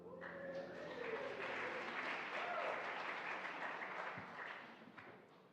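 Audience applause at a church service led by a reverend, a steady wash of many hands clapping that runs the whole time and fades slightly toward the end, with faint voices and a tonal hum beneath.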